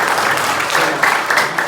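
Dense, continuous applause from a church congregation fills the space, loud and sustained with no talk over it.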